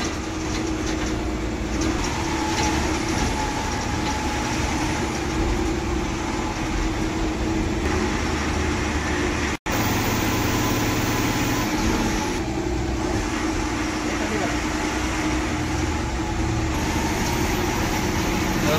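An MSRTC Tata BS6 ordinary red bus climbing through the Khambatki ghat on the Pune–Kolhapur highway at night, with a loud continuous engine drone and road rumble heard from inside, briefly cut midway.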